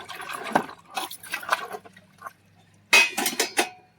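Dishes, pots and utensils are scrubbed and washed at close range, with bursts of clattering metal, scraping and splashing water separated by short pauses.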